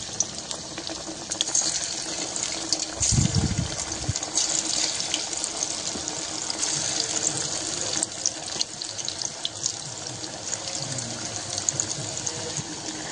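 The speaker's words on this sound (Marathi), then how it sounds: "इथे आपण तेल गरम करून घेतलेले आहे, तेल छान असं गरम झालेलं आहे. वडी घालून घेऊया." Alu vadi, taro leaf rolls, frying in hot oil, giving a steady, close hiss of bubbling that runs through the whole stretch, with a brief louder low rumble early on as the rolls are added.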